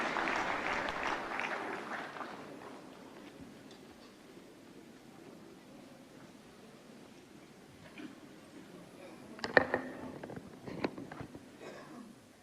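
Audience applause at the 69th National Film Awards ceremony at Vigyan Bhawan, New Delhi, welcoming minister Anurag Singh Thakur; a fairly faint, distant clapping swell that fades over a few seconds, followed by quiet hall ambience and a few scattered knocks.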